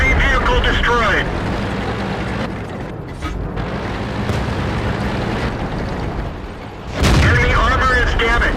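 Tank cannon fire and shell impacts in the World of Tanks game with a StuG III, heavy booming blasts and rumbling battle noise, loud at the start and again near the end, under an automated voice announcing hits.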